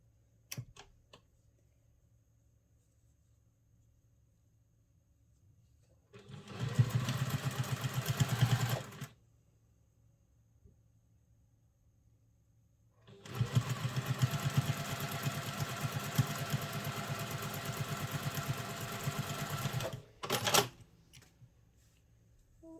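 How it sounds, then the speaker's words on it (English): A sewing machine top stitching a travel satchel runs in two bursts, a short one of about two seconds and a longer one of about seven seconds, each a steady mechanical whir against a quiet room, followed by a brief final spurt. "So we'll make sure our stitch length is 3 as we are top stitching."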